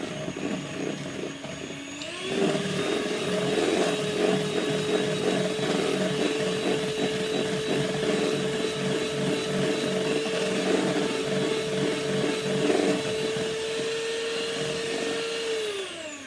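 An electric mixer whirs up after a couple of seconds and runs at a steady loud pitch, churning a batch of ingredients with faint rattling underneath, no one speaking.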